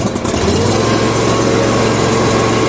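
Engine of a Toro Dingo TX 427 compact utility loader runs loud and close, settling into a steady, even drone after a brief uneven start.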